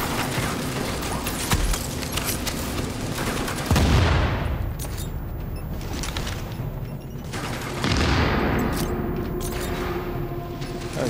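Bombs and grenades exploding in The Division amid a fusillade of gunfire, with heavy booming blasts around four and eight seconds that ring out and decay over continuous shooting.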